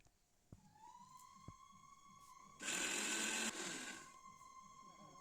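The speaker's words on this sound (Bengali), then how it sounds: "ঠান্ডা করে এটা মিক্সিতে পেস্ট করে নেব" A kitchen mixer grinder whirs loudly for about a second, grinding lightly fried green and dried chillies into a paste, with a steady whine and quieter motor hum before and after.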